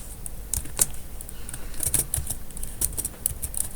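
A computer keyboard being typed on while a command is entered in a Linux Mint terminal: a run of quick, light key clicks at close range, uneven in rhythm, with no voice over them.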